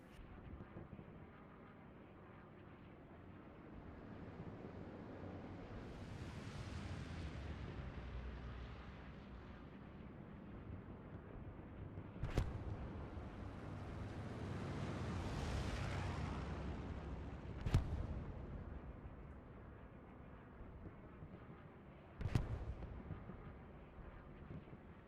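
Artillery in the Hell Let Loose video game lands as three sharp, distant booms spaced several seconds apart over a low, swelling rumble of battle ambience, fairly faint overall.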